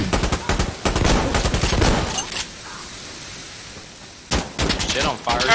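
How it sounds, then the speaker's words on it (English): Gunfire in the Insurgency Sandstorm combat game: loud, rapid automatic bursts up close, a brief lull, then another heavy volley, with a voice talking over the shooting. "Somebody's shooting at me."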